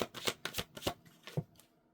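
Astrology cards being shuffled by hand, a run of quick close riffling bursts that taper off over about two seconds, with no talk.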